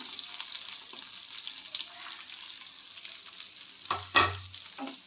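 Curry leaves and finely chopped onion fry in a pan with mustard seeds and cumin, a soft continuous sizzle with a couple of louder clatters and splashy bursts toward the end.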